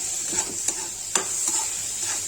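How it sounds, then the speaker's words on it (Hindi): Bitter gourd peels frying with rice flour in a pan, a steady close sizzle with a few sharp scraping stirs, no talking. "इसमें चावल का आटा मिला के इसको कुछ फ्राई कर देंगे। गाय ये भून रहा है"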